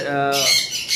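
A hybrid lovebird, kept among other caged birds, lets out a single harsh squawk, close and loud, with a noisy burst following it.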